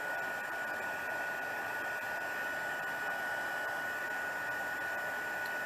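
A heat tool blows hot air over embossing powder for a resistance embossing technique on a card project. The hiss is a steady, loud, even whoosh that runs unbroken from start to end, with no talk over it.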